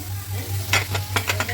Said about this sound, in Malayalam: അത് വഴറ്റിയിട്ട് നമ്മൾ അരിഞ്ഞ് വെച്ചിരിക്കുന്ന തക്കാളി അതിലേക്ക് ഇട്ടിട്ട് നല്ലോണം അതൊന്ന് വഴറ്റി കൊടുക്കാം.